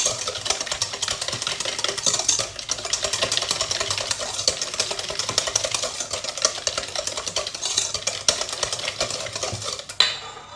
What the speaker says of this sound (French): je vais mettre les œufs et le sucre. نضيف السكر، غادي نخلط واحد شي شويه.